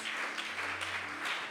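Church congregation at a Spanish-language service claps in a dense, sustained burst of applause, close and loud, with a steady low hum underneath and no talking.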